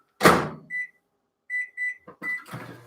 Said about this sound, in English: I need to put that back in the microwave